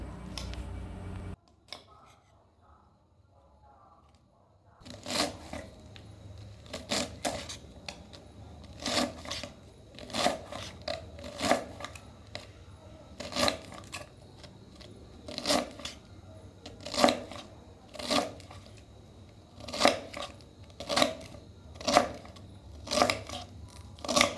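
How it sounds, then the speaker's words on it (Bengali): A knife chops capsicum on a cutting board, sliced up for a restaurant-style chicken chowmein: a steady run of sharp, close knocks at a brisk, even rhythm after a quiet start, with no talking. "তো এখন আমি ক্যাপসিকাম কেটে নিচ্ছি"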